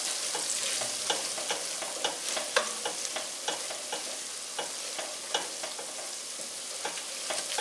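Whole chicken pieces brown in a pan for fricassee, a steady soft sizzle of frying beneath regular scraping and stirring strokes, close and fairly quiet with no voices.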